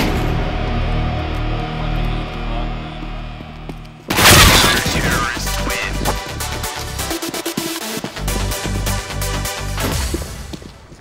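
A flashbang grenade goes off in a video game with a sudden loud burst partway through, followed by a sustained harsh ringing wash over continuous game noise.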